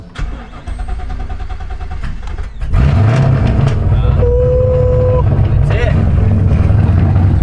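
A 7.3 Godzilla V8 in a Mustang drift car cranks for about two and a half seconds, then fires and settles into a loud, steady, rumbling idle close by.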